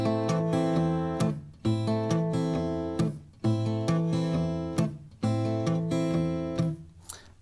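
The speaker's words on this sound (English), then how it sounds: "You can play it totally straight." Fingerstyle acoustic guitar pattern played straight rather than swung, a steady bass line under plucked treble notes, repeating in regular phrases, close and unaccompanied.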